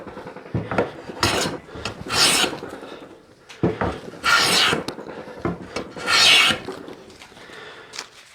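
A hand plane draws thin shavings along a wooden guitar body during body fitting, making three long, close, rasping strokes separated by short pauses and softer handling noises.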